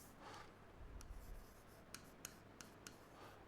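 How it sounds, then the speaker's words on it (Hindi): Marker or chalk scratches across a classroom board in a few short strokes, faint and close over a low room hum, followed by sharper taps and ticks as the writing finishes. "इसको मैं यहां लिख देता हूं"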